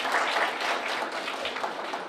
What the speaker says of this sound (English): I want you guys to give yourself a round of applause just for being here